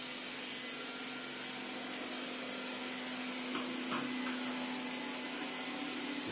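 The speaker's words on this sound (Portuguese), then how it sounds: "Vamos ver aqui o aspirador, já tá ali." A Xiaomi Xiaowa Roborock Lite robot vacuum cleaner runs on a dirty home floor, a faint, steady whirring hum with a high whine throughout and a couple of light knocks midway.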